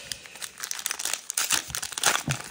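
Foil wrapper of a Topps Match Attax 25 football card pack crinkling and tearing open up close, a continuous busy rustle with sharper rips, no talking.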